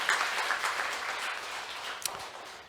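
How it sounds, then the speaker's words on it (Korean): A church congregation at a Sunday service breaks into steady applause, a dense wash of clapping that gradually tapers off over a few seconds. "우리 하나님께 큰 영광의 박수 한번 드리겠습니다."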